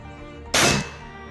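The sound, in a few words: air gun shot firing JSB pellets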